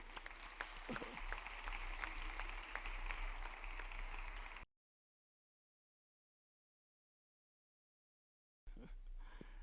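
A church congregation claps together at a sermon, a dense and steady burst of applause close at hand. It stops dead, then returns after a few seconds of silence.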